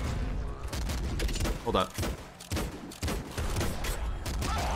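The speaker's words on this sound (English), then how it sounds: "that is totally a bazooka" Rapid bazooka blasts and explosions in the video game Nuclear Throne pound almost without pause, dense and loud, with a brief voice cutting in over the barrage.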